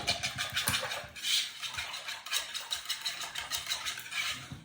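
A spoon or whisk stirs wet cornbread ingredients in a bowl, a steady rhythmic scraping and swishing close up, repeating in quick strokes with no talking.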